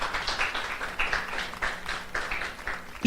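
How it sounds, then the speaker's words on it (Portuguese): Applause for Jesus during a church service, a congregation clapping steadily in a rhythmic, moderately loud wash of hand claps that holds throughout. "Dê uma salva de palmas a Jesus"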